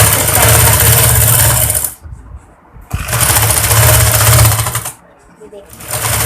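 A sewing machine stitches a kurti in two sustained motor-driven runs with a pause between them, loud and close, its steady whir carrying a rapid needle rhythm.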